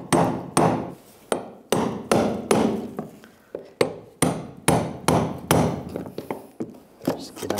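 A hammer strikes a brass punch about a dozen times at a steady rhythm to loosen the fuel pump lock ring on a 1999–2006 Chevrolet Silverado, each sharp metallic tap close and clear.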